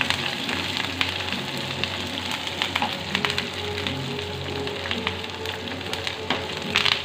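Onion, chili, curry leaves, garlic, ginger and fennel frying in oil for tuna pickle, a steady close sizzle with crackling pops throughout, no voices.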